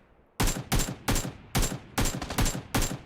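Gunfire in the video game PUBG Lite, seven loud, sharp bursts in an even, fast rhythm with short gaps between them, close and with no talk over them.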